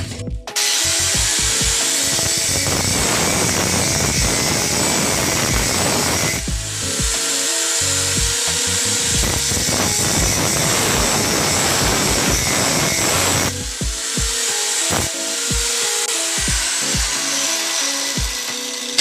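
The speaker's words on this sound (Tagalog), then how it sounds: "So sa paggamit ng grinder, mag-ingat-ingat lang po kayo" An angle grinder cuts metal while a used-oil stove is being built, loud and close with a sustained shrill whine that runs in long stretches and dips briefly twice as the cut pauses and restarts.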